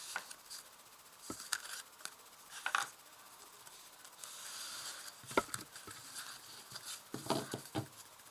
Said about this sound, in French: je vais mettre 5 cartes sur toi et ton contrat d'âme